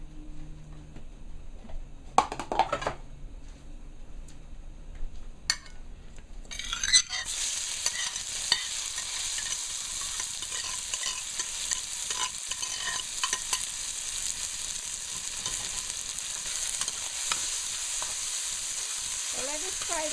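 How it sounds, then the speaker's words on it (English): Homemade seasoning hits about a quarter cup of hot oil in a pan for Guyanese pepperpot. After a few faint knocks, a loud bright sizzle bursts in and carries on steadily with soft stirring beneath it. "So let it fry down a little."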